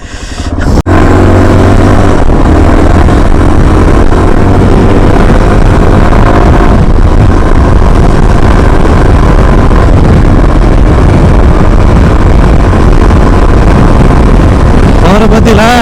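A 2025 Yezdi Adventure motorcycle rides at speed, its engine droning loud and close under heavy wind buffeting on the microphone, with a rider's voice intermittently over it.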